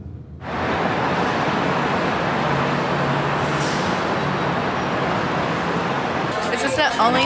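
Inside a car moving through New York City traffic, a steady broad road rumble and wash of tire noise rise in just after the start and hold throughout, with a brief voice near the end.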